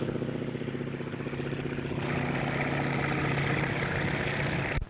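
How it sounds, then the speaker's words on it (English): A de Havilland Otter airplane flies past at a slow 55 miles an hour, its propeller engine droning steadily and loudly throughout, close by, with no voices. "Right now, it's going by at a mere 55 miles an hour."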